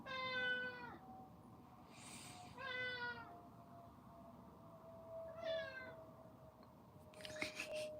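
A domestic cat meows three or four times close by, clear rising-falling cries spaced a couple of seconds apart over a quiet room, with a faint steady hum underneath.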